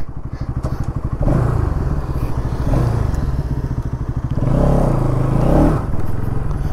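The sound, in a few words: Bajaj Pulsar NS200 motorcycle being ridden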